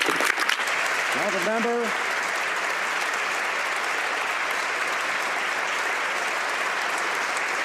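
Applause in the House of Commons chamber, a broad sustained roar of clapping from many members that begins after a brief spoken phrase and continues steadily at moderate loudness.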